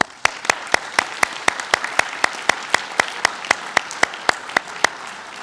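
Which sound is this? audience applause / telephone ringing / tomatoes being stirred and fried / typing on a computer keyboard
audience applause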